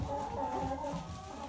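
Hens feeding on fresh straw in a cleaned farm coop give soft, low, intermittent clucks, close but quiet, with a faint murmur of background sound.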